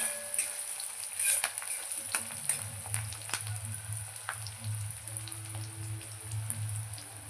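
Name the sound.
chopped green chillies frying until brown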